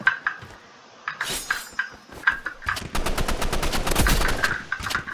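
Rapid bursts of automatic rifle fire in the Roblox game Rivals, building into a sustained, dense volley of shots near the end.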